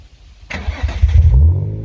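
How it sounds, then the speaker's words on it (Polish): A Nissan 350Z engine cranks and starts with a sharp catch, then settles into a deep, rumbling idle close by. "To odpal go, posłucham jak chodzi"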